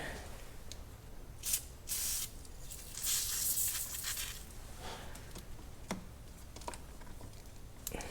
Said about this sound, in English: so that's where we're going to go ahead and use the battery cleaner